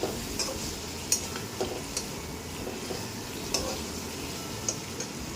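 Cauliflower masala being stirred in a pan, a steady soft sizzle with light scraping taps from a spoon every second or so, close and fairly quiet, no voices.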